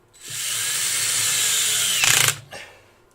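Power drill driving 25mm screws in a woodturning workshop, one steady whirring run that ends in a brief harder burst as the screw seats, then a short trailing whir and a stop.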